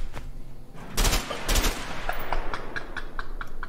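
Several sharp bursts of video-game gunfire crack out in quick succession, loud and close, followed by a scatter of lighter rapid shots fading off, with no talking.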